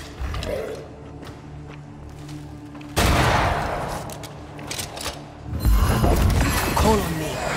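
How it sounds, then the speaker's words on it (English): Gun cocking in the video game Banishers: Ghosts of New Eden, sharp metallic ratcheting clacks in two strong bursts amid rattling mechanical clatter, near and fairly loud. "The sound of a gun cocking."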